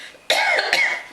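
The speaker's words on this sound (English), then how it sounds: "I already coughed, excuse me." A person coughs twice in quick succession, close and fairly loud, as a short burst with a brief pause between the two coughs and no speech around them.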